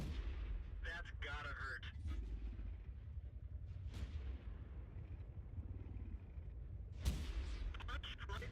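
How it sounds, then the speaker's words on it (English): A tank gun fires in the World of Tanks video game, loud booming shots with rumbling decay near the start and again later, over a low engine drone. "Because the gun is rear-mounted, you could hide the majority of the tank while shooting."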